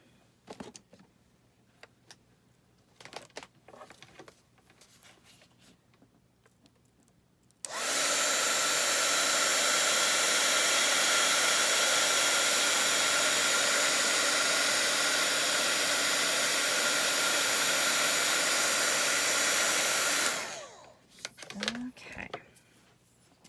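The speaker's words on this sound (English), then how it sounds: "So I just turned the Ryobi heat tool glue tool on" A Ryobi heat tool heat-setting a shaker snow globe craft ornament blows a loud, steady whoosh of hot air for about thirteen seconds, starting and stopping abruptly, with quieter handling noises before and after.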